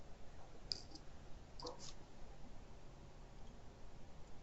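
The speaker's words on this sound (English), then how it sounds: "I'm going to right click on it and say load." Computer mouse right-click at a desk: a few crisp, close clicks in a short cluster, then quiet hiss with no talking.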